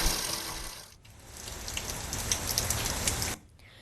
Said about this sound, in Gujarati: છેલ્લા 1 કલાકથી ધીમે ધારે અહીંયા વરસાદ ચાલુ છે